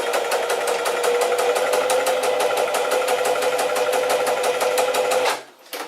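A Singer Heavy Duty 4411 sewing machine stitches waxed cotton in a fast, steady, close-up whir for about five seconds, then stops abruptly.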